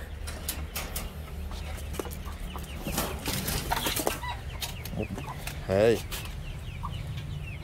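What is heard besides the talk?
chickens clucking on a farm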